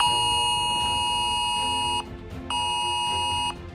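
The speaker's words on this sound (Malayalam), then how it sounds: "ഫോണിൽ നിരനിരയായി വരുന്ന അലർട്ട് മെസ്സേജുകൾ," Phone alert messages sound as electronic beeps: a long, steady high-pitched tone of about two seconds, a short gap, then a second tone of about a second, loud and close with no talk.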